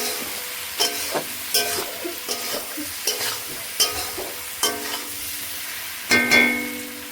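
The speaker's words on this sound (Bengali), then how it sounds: "এটাকে নেড়ে নেব, হালকা করে নেড়ে চেড়ে নেব।" Chili powder being stirred into hot oil in a frying pan while cooking chicken, with a soft ongoing sizzle and a series of spaced scraping stirs, close and moderately loud, no talking.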